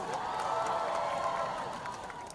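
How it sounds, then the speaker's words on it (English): A college festival crowd applauds and cheers for a performer, a dense, continuous wash of clapping and voices heard from a distance, steady throughout. "please give him a huge round of applause"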